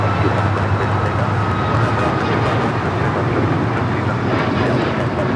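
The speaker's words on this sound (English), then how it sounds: "This is Southwest Airlines 1535 taking off to Houston Hobby on the MAX 8." A Southwest Airlines Boeing 737 MAX 8 takes off at LAX with a loud, sustained jet engine roar. The broad, steady rumble stays strong and constant throughout.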